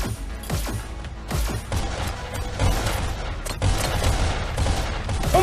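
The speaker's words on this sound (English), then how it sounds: "I'm getting shot so much." Rapid video game shooter gunfire, including gold pistols, crackles in dense overlapping bursts with sharp shots and impacts, loud and continuous throughout.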